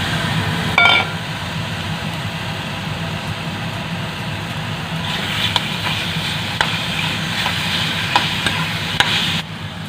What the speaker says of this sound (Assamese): ডাইৰেক্ট মাংসখিনি ঢালি দিম